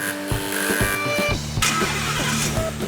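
Ford Mustang GT with a 5-litre V8 rumbles loudly and close, its deep burbling exhaust pulsing unevenly as the throttle is blipped, with a brief surge partway through and no talking.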